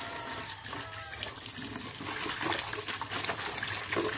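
Kangkong leaves being washed under running water, a steady rushing stream with splashing and trickling that grows slightly louder toward the end, close by and without talk.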